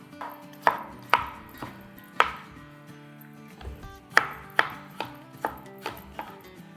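Skinned tomatoes sliced with a knife on a board, about a dozen distinct close chops at an uneven pace, each a crisp knock with a short ring.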